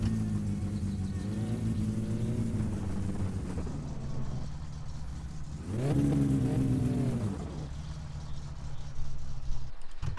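A misfiring car engine bogging down in the video game My Summer Car, a steady low droning rumble that surges briefly midway, heard close and loud with no talk.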